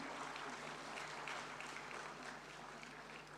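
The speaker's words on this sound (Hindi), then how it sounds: "ये बहुत ही खुशी का पल है और जोरदार तालियां।" Steady, dense applause from a crowd at a national conference of rural cooperative banks, honouring the Gujarat State Cooperative Bank at an award ceremony; the clapping holds evenly throughout at a fairly distant, low level.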